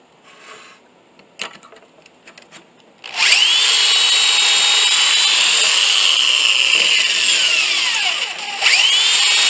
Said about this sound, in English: I drill 2 pocket holes in the center of each side of the backer